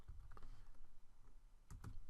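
Close typing on a computer keyboard while writing Python code, a run of soft key taps ending in a couple of firmer presses, with no speech.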